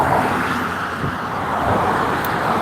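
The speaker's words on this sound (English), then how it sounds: "Is this traffic too loud for y'all?" Road traffic rumbles steadily nearby, a continuous wash of passing cars with no speech over it.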